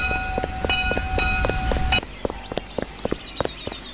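A train moving in the video game Mad City gives a steady low rumble for about two seconds. Then it drops away, leaving sparse, sharp clicks and knocks like footsteps.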